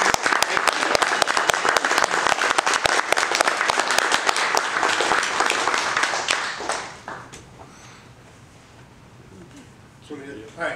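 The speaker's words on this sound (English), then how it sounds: "please give a loud round of applause for our special guest of honor" Loud, dense applause from an audience greeting a special guest of honor fills the first seven seconds, then drops away to quiet room noise with a brief swell near the end.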